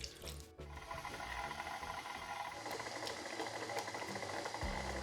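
Water pouring into a bowl of flour while making homemade pizza dough, a steady soft splashing trickle that continues through the clip at a moderate, fairly close level.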